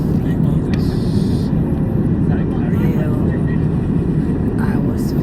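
Steady, loud airplane engine drone fills the cabin during flight, a constant low roar with occasional faint voices and small clicks over it.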